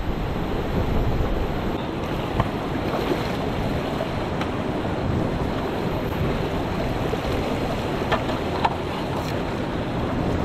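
Cold water in an Arctic canyon rushes and splashes in a steady, dense wash, with wind buffeting the microphone and a few faint clicks on top, continuous throughout without any voices.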